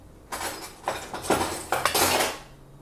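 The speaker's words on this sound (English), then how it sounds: "I just take a little bit out with a spoon." A spoon scrapes and clinks against a dish while scooping out portions of a raw eggplant, cabbage and red pepper medley, several short clattering strokes close up, with no talking.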